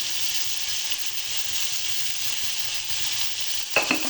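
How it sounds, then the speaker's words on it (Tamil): Mint and tomatoes sautéing in a pan as they cook down into a gravy, a steady close sizzle and hiss throughout, ending in a brief clatter of stirring near the end. "புதினா தக்காளி நல்லா வதங்கட்டும். நல்லா கிரேவி மாதிரி வரட்டும்."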